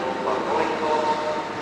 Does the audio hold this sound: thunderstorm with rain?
no